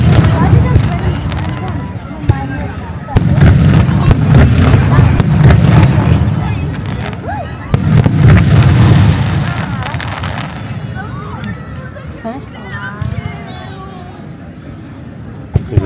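The Nits Daurades fireworks show bursts over Salou, loud booming blasts and crackling in two heavy waves over a constant crowd hubbub, then thinner scattered pops as the noise dies down.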